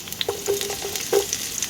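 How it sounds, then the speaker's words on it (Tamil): Onions sauté in a pan for a ground-meat pasta dish, a short burst of crackling sizzle with a few quick stirring scrapes and soft pops, close and moderately loud, no speech. "வெங்காயம் வதங்கி வரணும்."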